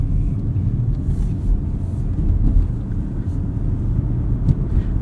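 Steady low rumble from inside a 2024 Mazda CX-50 Meridian Edition on the move, with continuous road and engine noise at even volume and no talking.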